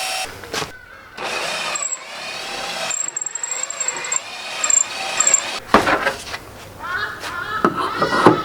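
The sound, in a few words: power drill drilling a pilot hole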